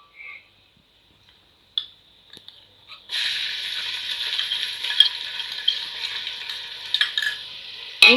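Ginger garlic paste stirred into golden fried onions for chicken thokku biryani, a steady scraping and sizzling in the pan that starts after a few quiet taps and runs continuously to the end.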